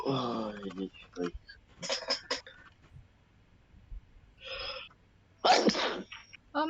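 A person sneezes sharply and loudly among scattered speech during a casual gaming session, with a clear, close burst standing out from softer voices around it.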